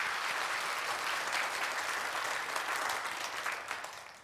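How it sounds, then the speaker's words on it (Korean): A church congregation applauds new members at a Korean worship service, dense sustained clapping from many hands filling the room, steady throughout and tapering slightly at the end. "우리 박수 한번 하셨으면 좋겠습니다."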